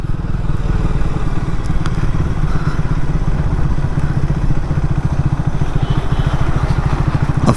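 A Triumph Speed 400 motorcycle rolling slowly in fourth gear thumps with a steady, rapid single-cylinder beat, loud and close throughout with no talk.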